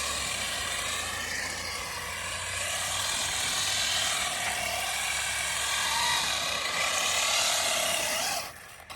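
An Arrma Senton RC drift car is driving, with a steady, fairly faint electric motor whine that holds through the run and ends abruptly near the finish. No voices.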